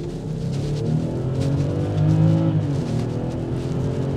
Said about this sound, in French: avec la sonorité envoûtante, tu as le 6 cylindres